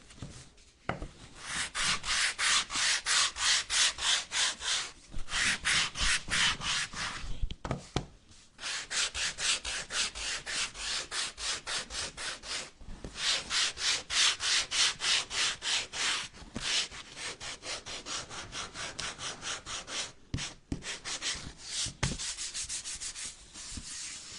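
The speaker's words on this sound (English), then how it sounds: "I'm going to sand it a little on both sides" A painted wooden hand mirror sanded by hand in long, rapid back-and-forth strokes, a loud, close, rhythmic rasping that runs in sustained bursts with brief pauses between them.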